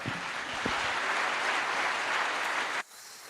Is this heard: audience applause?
yes